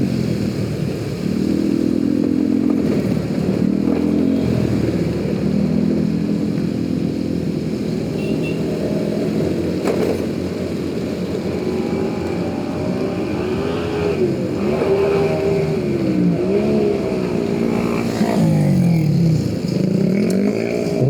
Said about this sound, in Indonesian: ini motor kok cipratannya tinggi juga ya